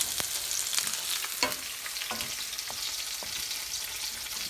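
Lamb chops sear in a hot pan with a steady, bright sizzle and scattered sharp spits and pops, close and continuous with no talking.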